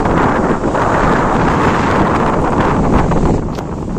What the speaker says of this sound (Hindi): तो यहाँ पे बहुत ही तेज हवा चली है